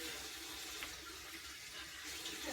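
Basil leaves rinsed under a running kitchen tap make a steady, faint rush of flowing water with no break over the short stretch and no talk.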